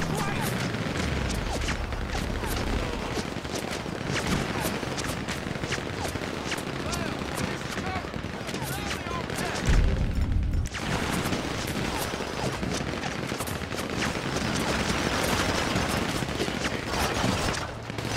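GTA 5 shootout at the FIB building with dense, sustained gunfire, overlapping bursts and rattling automatic fire, a heavier boom near the middle, loud and continuous throughout.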